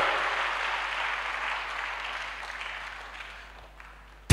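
A church congregation applauding the Lord: steady clapping from many hands that gradually fades, then cuts off abruptly at the end.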